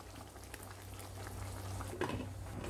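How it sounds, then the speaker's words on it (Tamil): Chettinad avial curry boiling in a pot, a steady, soft bubbling and low simmer heard close up, with a brief clink of a utensil near the end and no talking. "உப்பு சேர்ற வரையும் நல்லா கொதிக்கட்டும்."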